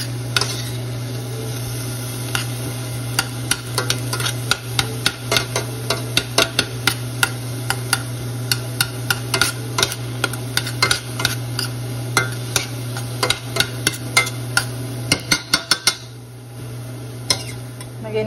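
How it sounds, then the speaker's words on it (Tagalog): Garlic, onion and chili chopped for a Filipino budget dish sauté in a pan, the metal utensil scraping and clinking in sharp repeated strokes over a steady low hum. "Gisa na tayo ng bawang at sibuyas, guys."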